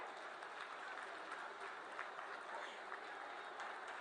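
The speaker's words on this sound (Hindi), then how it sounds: "तालियों का संगीत चलता रहे।" Applause from an audience at an outdoor government project inauguration event, a steady dense patter of clapping heard at a moderate distance, continuous and unbroken for the whole stretch.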